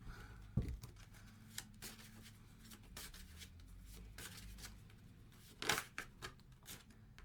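Soft, close riffling and flicking of playing cards, with irregular papery bursts and occasional sharper slaps against a quiet background.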